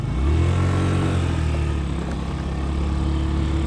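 A fuel-injected Yamaha Jog SA39 ZR scooter engine idles steadily with a low, even hum and slight putter, running close by without revving or pauses.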